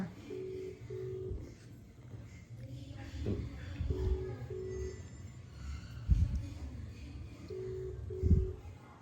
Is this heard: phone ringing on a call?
yes